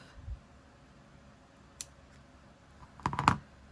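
Scissors snip thread ends close to a sewn-on button eye, producing one faint early snip and then a quick cluster of crisp, close cuts near the end against a quiet background.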